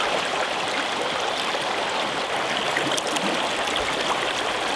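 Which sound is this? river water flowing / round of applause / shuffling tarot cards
river water flowing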